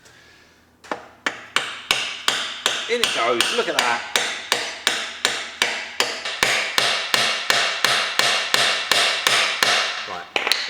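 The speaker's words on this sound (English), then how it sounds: "Let me just hit it with a hammer." About two dozen sharp hammer blows on a metal part of a Triumph Tiger 90 motorcycle land in a steady, rhythmic series, loud and close, with a brief spoken remark partway through.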